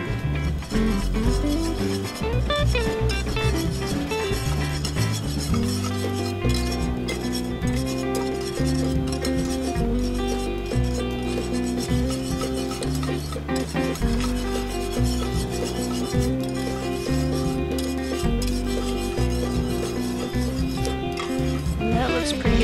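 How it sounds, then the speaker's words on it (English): A whisk rubs and scrapes steadily around a bowl of bloomed gelatin, with occasional light clinks against the side, continuing for the whole stretch under a sustained tonal background. "we're going to whisk it and try and get the rest of the gelatin to dissolve and be able to incorporate it"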